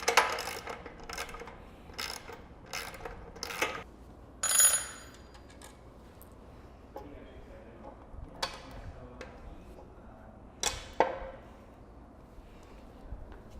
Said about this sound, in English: We'll be using a 10mm socket and an open end or a box end